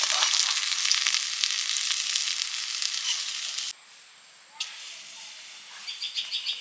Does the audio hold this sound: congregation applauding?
no